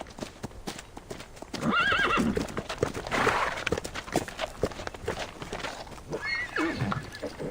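Horses in the video game Reverse: 1999 clip-clop in steady hoofbeats, with two distinct neighing whinnies rising over the walking rhythm, fairly close and moderately loud.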